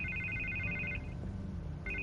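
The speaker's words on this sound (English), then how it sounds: "I can't get the phone to stop ringing" A phone in the video game Batman: The Telltale Series rings with a repeating electronic trill, pausing briefly before starting again over a low ambient hum.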